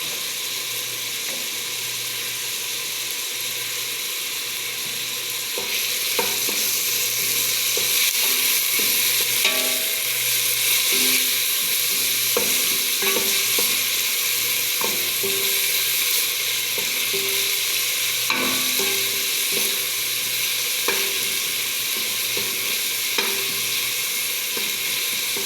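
Grated carrots stir-frying in a pan with chicken, a steady close sizzle with intermittent scraping and stirring clicks throughout.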